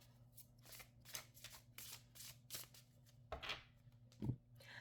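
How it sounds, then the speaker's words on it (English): Tarot card decks shuffled by hand at close range, a rhythmic series of soft riffling bursts with short pauses between them, quiet and alone over a low steady hum. "while I'm shuffling these decks"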